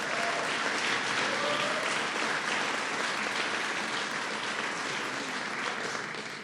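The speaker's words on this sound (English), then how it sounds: "To Kenneth and Canisius, let's give them a round of applause" Sustained audience applause fills a hall in Western New York for Kenneth and Canisius, a dense, steady wash of many hands clapping, fairly loud throughout and tapering slightly at the end, with no voices over it.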